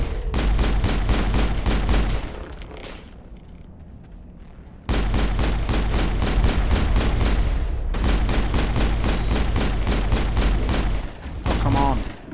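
Sustained rapid gunfire in Mass Effect, loud and close, rattles in long automatic bursts with a short lull partway through, then resumes and keeps hammering almost without pause.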